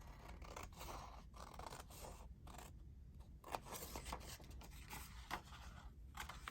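Scissors snip through paper while a single-page journal pocket is cut out, making close, quiet crisp cuts in an uneven series with faint paper rustling and no talking.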